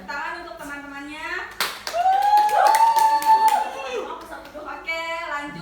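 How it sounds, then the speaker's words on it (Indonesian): Students in a classroom break into a burst of applause after a group presentation, lively clapping lasting a couple of seconds, with someone talking before it and voices and cheering mixed in. "Diberi tepuk tangan untuk teman-temannya."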